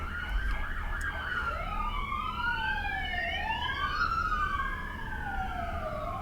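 A wailing ambulance siren sweeps up and down continuously, loud and close, over a low rumble of traffic.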